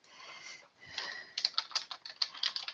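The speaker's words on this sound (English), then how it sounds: "Let me type something in." Close, crisp keystrokes on a computer keyboard tap out a short burst of quick typing after a soft rustle, alone without talk.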